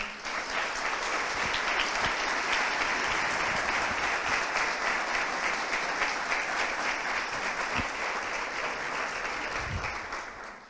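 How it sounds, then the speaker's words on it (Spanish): Sustained audience applause at a political gathering, dense steady clapping from a large crowd that holds loud for about ten seconds before tapering off at the end. "por favor vamos a darle un fuerte aplauso"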